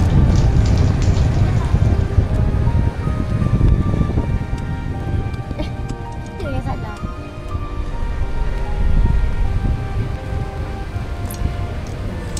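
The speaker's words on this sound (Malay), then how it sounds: "Sampai-sampai je hujan." Rain falls steadily at the RareHut Glamz glamping site, a dense close patter and hiss on surfaces with low rumbling underneath, while voices talk over it.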